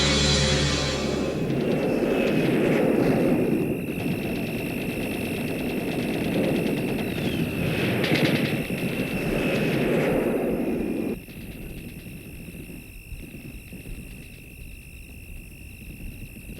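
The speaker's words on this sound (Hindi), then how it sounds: "आज कुछ ज्यादा ही बमबारी हो रही है" Bombing with aircraft overhead in a horror show: a deep, sustained roar of engines and blasts with a high whine rises steadily. It then cuts abruptly to a quieter, hollow backdrop with scattered faint knocks.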